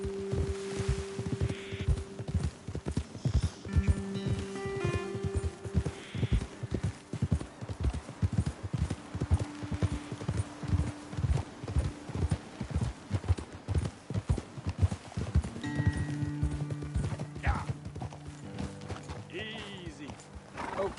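Horses in a video game walking along a trail: continuous, rhythmic clip-clop of hooves close by, with occasional neighs and snorts and a game character talking over the hoofbeats.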